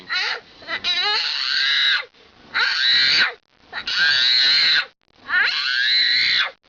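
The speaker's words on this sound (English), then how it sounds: "Why are you screaming?" A baby screams in four long, shrill bursts separated by short gaps, loud and close, with no talk over it.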